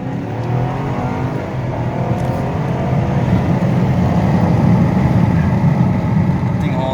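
A 2013 Ford Taurus sedan with the twin-turbo EcoBoost engine and all-wheel drive accelerating, a steady loud engine roar that builds gradually and holds throughout, heard from inside or close by.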